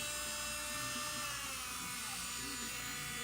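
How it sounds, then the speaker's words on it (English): A 180 grit drum sander on a rotary tool whines at a high, steady pitch while smoothing edges of a ring made from a twisted fork, constant and close throughout. "So I switched over to, this is a 180 grit drum sander."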